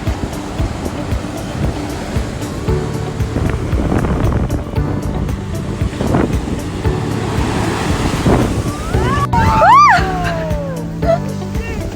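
Small ocean waves washing ashore at Waikiki, Honolulu, Hawaii: a steady broadband surf wash with some wind, and a brief whistling tonal sweep near the end.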